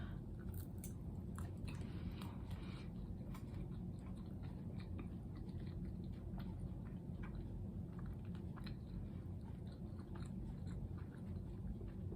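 Shrimp with vegetables is chewed close to the microphone during a mukbang, with soft, steady mastication and faint crunches over a quiet background.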